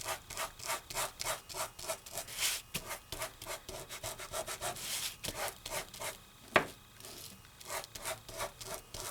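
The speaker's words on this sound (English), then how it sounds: "And I'm going to burnish this or polish this." Paper is burnished firmly over a stamping mask with rapid, repeated rubbing strokes, a dry scratchy swishing in an irregular rhythm with one sharper scrape, close up and with no talking.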